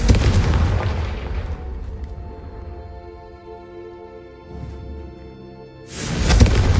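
A Confringo explosive spell blast in Hogwarts Legacy: a loud booming burst that decays into a ringing tonal tail, then a second heavy blast at the end, with no talking.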